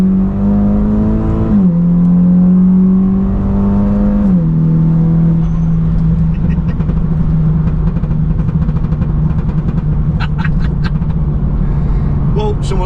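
A Volkswagen Scirocco R pulls hard from second gear with traction control off, its engine note loud and close inside the cabin, rising through the revs with shifts and then crackling on overrun near the end.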